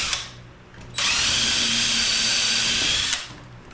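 Power drill driving 2-inch screws into a wooden Adirondack chair, a steady loud whir lasting about two seconds that starts abruptly and spins down, with quieter workshop noise before and after.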